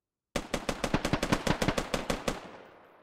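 Rapid automatic gunfire from a video game shooter: about a dozen sharp shots in a quick, even burst, loud and close, cutting off into a short fading tail.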